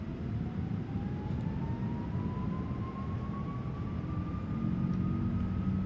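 Boeing 777-200ER jet engines in the PMDG flight simulator spool up for takeoff, a loud, steady roar with a whine rising slowly in pitch as thrust builds.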